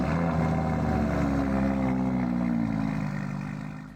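An Audi R8 GT with a V10 engine starts up in the Roblox-style racing game Driving Empire, giving a loud, steady engine drone that slowly fades toward the end.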